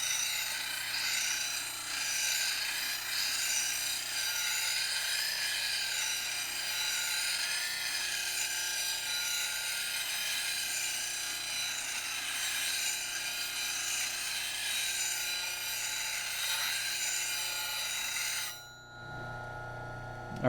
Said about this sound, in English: making a nice gentle rocking motion back and forth to grind this heel away